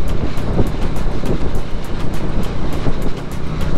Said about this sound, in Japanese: 風が強いね